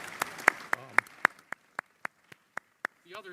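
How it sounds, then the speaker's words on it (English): Applause at an annual business meeting comes as a slow, evenly spaced series of about a dozen sharp single claps, with voices talking over the first few. "Have a round of applause for my anger translator,"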